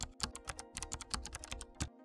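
Rapid typing on a computer keyboard while naming a folder, a close, quick run of sharp clicking keystrokes in uneven bursts, ending in brief quiet.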